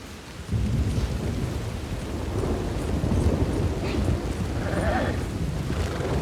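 Steady rain pours down with deep rolling thunder rumbling through, continuous and fairly loud, with no one speaking, in the video game Red Dead Redemption 2.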